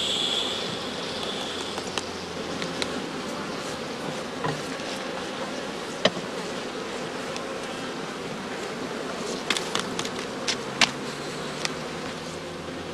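Honey bees buzz in a dense, steady drone around an opened straw skep hive in a heather-season apiary. A few faint clicks and taps from hive work rise over the swarm.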